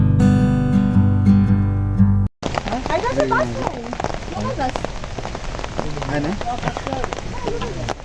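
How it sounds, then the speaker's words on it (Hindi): Heavy rain pours down on a mountain pilgrimage trek toward Kedarnath, a dense, loud hiss that starts abruptly after a short stretch of other sound, with voices talking faintly in the downpour. "खतरनाक बारिश चालू हो गई है यहाँ पे।"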